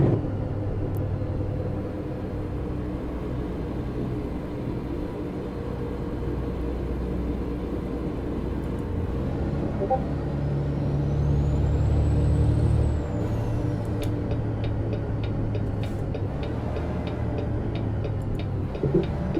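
Heavy truck engine in American Truck Simulator rumbling steadily at low pitch, with a loud hiss of the air brake partway through and light ticking toward the end, no talk.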